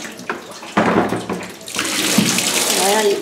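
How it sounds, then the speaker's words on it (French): A water tap runs in a French-speaking health clinic's care room, a steady close rush of flowing water that swells louder after a moment, with a voice talking over the start. "C'est le robinet."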